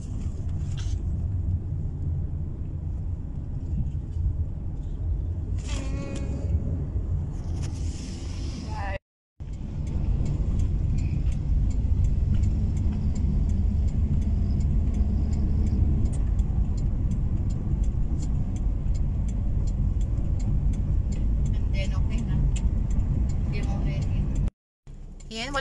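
Car driving in traffic near Trinoma, heard from inside the cabin: a steady low engine and road rumble runs throughout, with speech over it and two brief dropouts.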